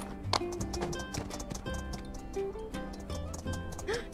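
Horse hooves clip-clopping in a steady trotting rhythm in the video game My Time at Sandrock, fairly close, with a brief whinny-like sound and faint background noises.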